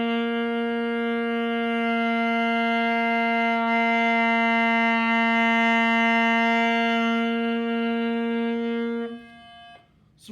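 Two sustained tones rich in harmonics, played slightly out of tune with each other, hold steady for about nine seconds with a slow beating pulse in the loudness before cutting off.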